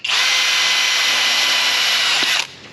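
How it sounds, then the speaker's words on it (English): A power drill whines loudly at a steady high pitch for about two seconds while drilling a hole on a Nissan 350Z, then winds down and stops abruptly. "Now we're gonna go ahead and drill a hole that Derek marked"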